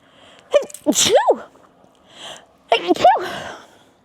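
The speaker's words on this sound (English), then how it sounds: "I need to sneeze." Two small, squeaky sneezes close to the mic, each with a quick breathy build-up, separated by a short pause.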